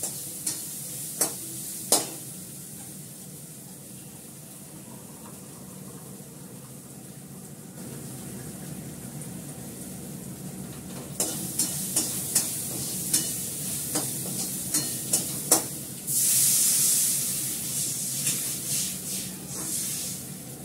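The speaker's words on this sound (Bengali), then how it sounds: "কুমড়োটা ওলটা সেদ্ধ হচ্ছে, নুন দিয়ে দিয়েছি" Pumpkin simmers in salted water in a pot, giving a steady low bubbling hiss with scattered sharp clinks and a louder burst of steamy hissing near the end, with no talking.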